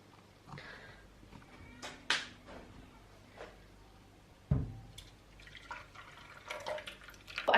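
Homemade cashew milk drips slowly through a sieve, scattered close droplets and small trickles with a few sharper knocks and quiet gaps between them.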